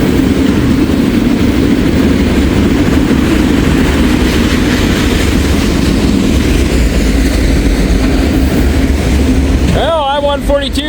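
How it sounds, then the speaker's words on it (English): A single-locomotive freight train rolls past close by, a loud continuous rumble and rattle of wagons that holds steady before dropping off near the end. "I-142 is a one locomotive wonder today."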